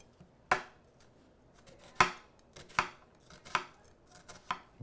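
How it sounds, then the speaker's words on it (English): A knife dices red onion on a cutting board, with five or six sharp, close chops landing at an uneven pace and quiet pauses between them. "Get some small dices for the red onion."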